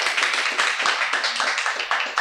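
An audience at a Korean author talk claps to welcome a media studies professor, giving dense, steady applause throughout with a faint voice underneath.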